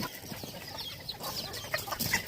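A white-speckled Rosecomb chicken clucks softly among a small flock of ornamental fowl in a yard, with faint calls and rustling at a moderate distance.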